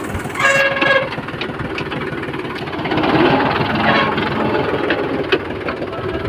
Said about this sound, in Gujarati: જોઈ લો ટ્રેક્ટર જો ખાલી ચાલુ થઈ ગયો